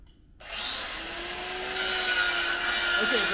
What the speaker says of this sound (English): Shane's grinding is pretty loud.